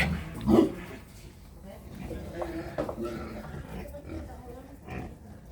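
Native pigs grunt in short, rough bursts close by, the loudest near the start, while a person talks over them.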